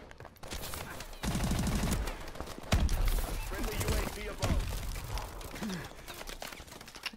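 Call of Duty: Advanced Warfare team deathmatch gunfire crackles in loud, rapid bursts with heavy low thuds and game effects, while a player talks over the action.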